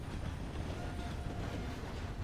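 In a railroad roleplay video game, a train runs with a steady, dense rumble and rolling wheel noise, even and continuous with no talk over it.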